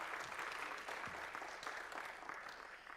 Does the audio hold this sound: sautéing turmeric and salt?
no